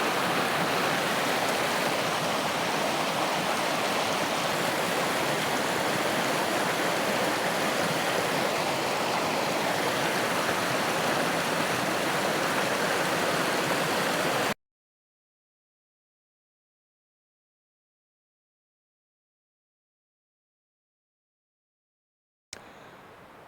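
A mountain river flowing at about 11,000 feet in the high country, a steady rushing babble that is cut off into silence partway through, with a brief return at the very end.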